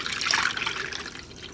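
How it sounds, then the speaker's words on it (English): Water poured into a pan of duck for broth, a short splashing trickle that is moderately close and tapers off over a second and a half. "Okay, I'm gonna add some more water to it,"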